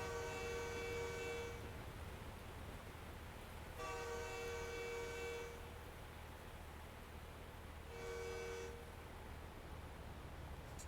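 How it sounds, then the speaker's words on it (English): A train horn in American Truck Simulator sounds three long, steady blasts, each about two seconds, with short gaps between them, heard faintly at a distance over a constant low engine and road hum. "I hear a train somewhere."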